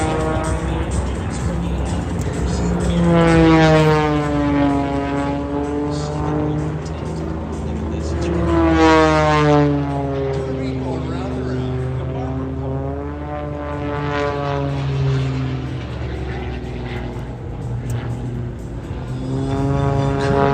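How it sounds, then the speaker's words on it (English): An aerobatic propeller airplane performs at the Miramar airshow, its engine droning loud and continuous with rising and falling pitch sweeps as it maneuvers overhead for the full stretch. "that makes the airplane able to fly slower and still get all that lift"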